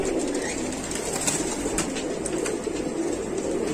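Pigeons offered for sale, including mixed Madrasi and Punjabi birds, coo in a low, continuous murmur from a flock, with occasional wing flutters and steady background noise.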